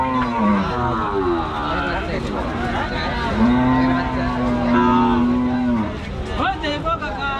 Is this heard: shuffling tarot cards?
no